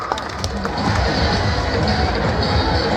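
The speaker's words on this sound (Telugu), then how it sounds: "ఒకసారి గట్టిగా చప్పట్ల వారికి" A large audience at a public gathering on national integration in Penukonda bursts into loud, sustained clapping and cheering, a dense crowd roar with a few shouts mixed in that holds steady to the end.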